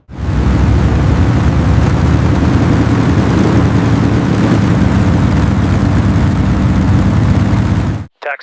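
Engines of a Convair XC-99 aircraft spooling up to full power, a loud dense continuous roar with a heavy low rumble, steady for about eight seconds before cutting off abruptly.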